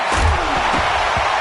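Stadium crowd at a football game roaring in displeasure at a penalty flag on third down, a loud brief surge of massed voices with a few sharp bursts.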